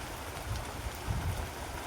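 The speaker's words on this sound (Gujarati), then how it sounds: "ને અત્યારે તો ઝીણો ઝીણો વરસાદ ચાલુ થઈ ગયો છે" A light drizzle falls outdoors in a rural farmyard as dark clouds gather. The soft, steady patter is faint and continuous, with a low rumble beneath it and no talking.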